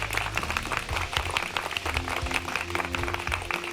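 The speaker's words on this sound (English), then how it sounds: "the audience clapped in stereo" Audience applause in stereo, a steady dense patter of many hands clapping at moderate level, continuing evenly throughout with no break.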